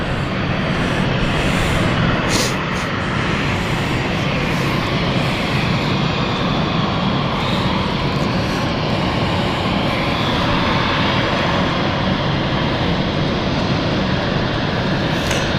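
An inbound Glasgow flight's jet aircraft roars steadily at London City Airport, a broad, continuous engine rush holding level for the whole stretch, with no talk.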